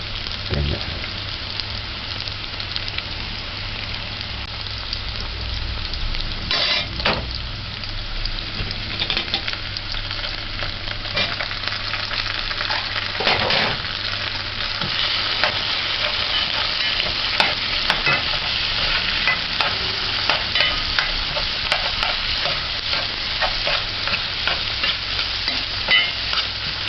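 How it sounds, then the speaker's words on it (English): Onions sautéing in a pan for corned beef shell macaroni, a steady, dense sizzle and crackle with occasional stirring scrapes, close and continuous with no speech. "I like my onions sauteed. So saute it till it's cooked."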